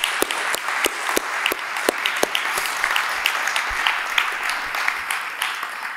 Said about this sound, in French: Mesdames et messieurs, un tonnerre d'applaudissements pour la Fédération française de débat et d'éloquence